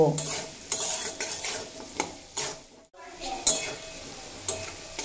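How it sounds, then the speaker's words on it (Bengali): Potatoes and okra fry over low to medium flame and are stirred repeatedly, giving a soft sizzle under rhythmic scraping and occasional clinks of a spoon on the pan. "5-6 মিনিট মতো লো টু মিডিয়াম ফ্লেমে রেখে ভেজে নেব।"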